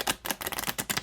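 An oracle card deck on thin cardstock is shuffled close by, giving a quick run of sharp, rapid card flicks and riffles in about one second with no talking.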